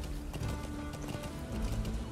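A horse gallops in the Metal Gear Solid V video game, hooves clip-clopping in a quick steady rhythm, fairly quiet, with no talk over it.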